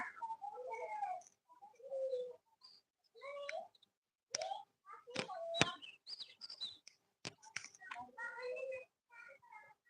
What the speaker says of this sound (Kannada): ಪಾರಿವಾಳ